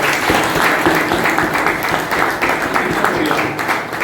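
Strong, sustained applause from an audience at a felicitation ceremony, many hands clapping densely and evenly for several seconds, close and loud.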